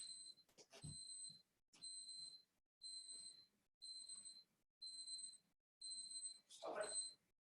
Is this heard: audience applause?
no